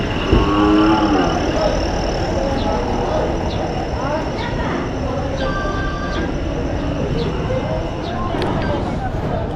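Cattle being loaded at the Padre Garcia livestock market give occasional moos within a dense, noisy bustle of people talking and engine rumble.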